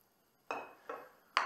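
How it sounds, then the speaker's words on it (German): Olive oil goes into a frying pan, giving three short metallic clinks and taps about half a second apart, faint and close, with no talking. "Jetzt gebe ich mir Olivenöl erstmal in die Pfanne."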